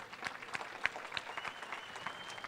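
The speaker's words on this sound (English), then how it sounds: "Would you give all of our bidders and all of our donors in our live auction a big round of applause?" An audience at a charity gala claps for live-auction bidders and donors, moderately faint, scattered claps with some distinct hand hits, a continuous patter over a few seconds.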